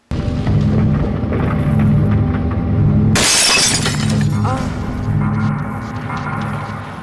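A glass elevator floor shatters in the Half-Life 2: Episode One video game. A sudden loud crash of breaking glass cuts through a steady rumbling hum of machinery, then debris and the mechanical drone carry on afterward.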